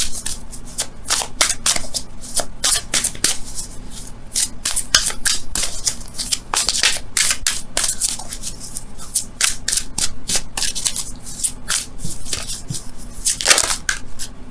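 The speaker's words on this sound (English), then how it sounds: "Let's go ahead and see what's going on with your romance angels cards for this week," Tarot cards are shuffled continuously up close, a loud run of crisp riffling and flicking that goes on almost without pause.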